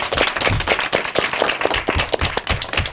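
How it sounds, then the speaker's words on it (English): An audience at an elementary school academic quiz competition claps, a loud round of applause with dense, sharp hand claps throughout. "I like to hear a big round of applause for yourself."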